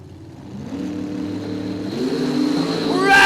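Mopar and Chevrolet drag racing cars at Cordova Dragway rev side by side before a semi-final run, the engine roar building steadily louder, with a voice faintly over it.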